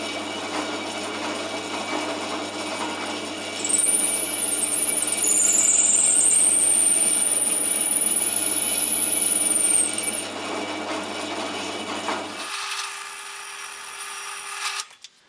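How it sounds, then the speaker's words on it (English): A power drill bores through a wooden guitar neck block, a steady grinding whine with a high squealing tone that runs for several seconds before the drill shuts off and the sound drops to a quieter hum. "I'll turn it upside down, drill backwards through it"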